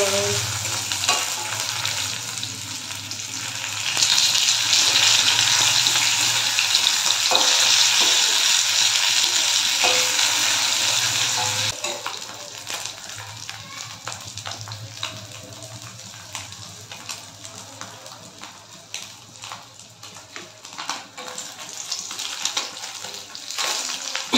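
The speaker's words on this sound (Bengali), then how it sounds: "লাল লাল মাছ ভাজা।" Fish frying in oil sizzles loudly and steadily up close, with dense crackling that eases somewhat in the second half and no voices over it.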